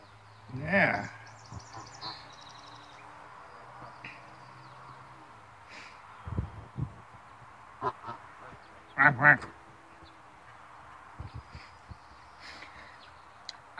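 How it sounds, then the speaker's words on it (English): A goose honks and quacks at close range during breakfast feeding, giving several sharp, loud calls with long quiet gaps between them, while a person speaks softly nearby. "Hey. Don't come too close, Mr. Goose"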